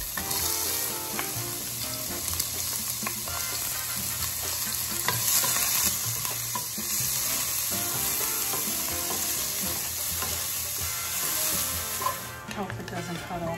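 Orange pepper and half a yellow onion sauté in olive oil for a shrimp soup, giving a steady, continuous sizzle with occasional stirring scrapes, close and even throughout with no talking.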